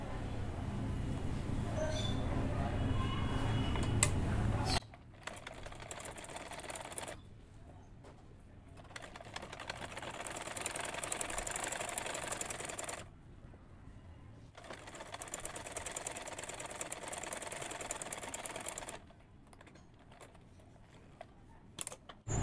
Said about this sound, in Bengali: এবার আমি কোমর পর্যন্ত এটাকে সেলাই করে যাব।